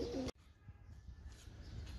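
Soft pigeon coos come from nearby, low and murmuring, after a brief louder burst at the start, with faint rustling in the background.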